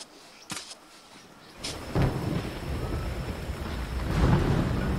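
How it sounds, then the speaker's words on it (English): Thunder rumbles over a sandbar island as rain moves in, with a sharp crack early on, then a deep roll growing louder alongside a thickening, close rain hiss. "Here come the rain clouds."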